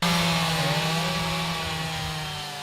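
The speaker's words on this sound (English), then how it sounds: "The reassuring buzz of chainsaws, tarps going up on roofs" A chainsaw buzzes loudly and steadily close by during tornado cleanup, its engine holding a high whine that eases slightly toward the end, with no voices.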